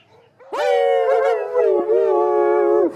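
A sustained, wavering dog-like howl rises in a loud singing tone for over two seconds, a playful canine ditty voiced by a person imitating a dog, close and clear with no other voices.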